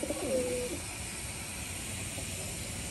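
A white pigeon gives one short, soft coo at the very start, then only a steady faint hiss remains.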